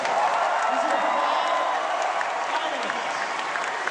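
Audience applause with cheering for the cosplay finalists at BlizzCon 2008, a dense, steady wash of clapping from a large crowd that holds loud throughout, with a few whoops and voices rising out of it.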